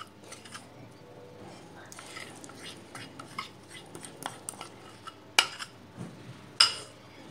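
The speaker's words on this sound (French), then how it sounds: "je transfère mon chocolat dans un saladier" Chocolate being transferred into a mixing bowl, light scraping and tapping of a utensil against the bowl with a few sharper clinks near the end, close and moderately quiet.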